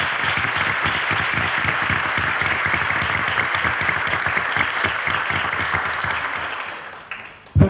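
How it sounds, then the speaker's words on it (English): Sustained, dense applause from an audience at a Board of Education meeting, loud and steady for most of the stretch before tapering off, with a brief bump of noise at the very end. "Let's give them all a great round of applause."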